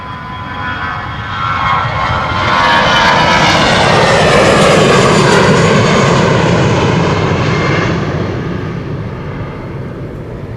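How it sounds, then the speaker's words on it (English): A 14-year-old Aer Lingus Airbus A320 jet airliner bound for Dublin passes at Schiphol's Polderbaan runway, its loud engine roar building to a broad peak midway, then easing off as it moves away, with no voices. "Shamrock flight 603 to Dublin, Ireland. The EIDVL is coming. A320, 14 years old"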